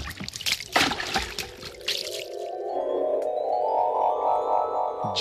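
Water splashes, then pours steadily into a vessel to prepare a bath, the tone rising in pitch as the container fills, close and fairly clear.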